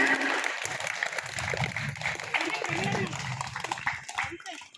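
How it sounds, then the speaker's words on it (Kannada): An audience claps loudly to welcome teachers and assistant teachers at a school gathering, a steady wash of applause with voices talking over it. "ಅವರೆಲ್ಲರೂ ಜೋರಾಗಿ ಚಪ್ಪಾಳೆ ತಟ್ಟುತ್ತಾ ಅವ್ರನ್ನ ವೆಲ್ಕಮ್ ಮಾಡೋಣ"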